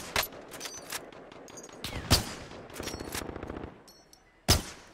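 Shotgun blasts ring out in a video game, a string of sharp separate shots at irregular spacing, several loud bursts standing out, with no talking.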